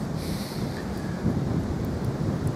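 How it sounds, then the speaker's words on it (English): Strong wind in snowy North Wales roars steadily and buffets the microphone with a low, rumbling, continuous gusting and no voices. "I got a little bit near the camera because it's really, really windy."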